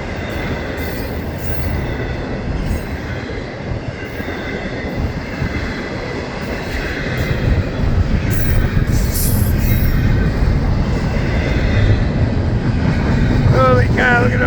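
A freight train hauling Seaboard reefer cars passes close by with a constant loud rolling roar and high wheel squeal, and a voice comments over it near the end.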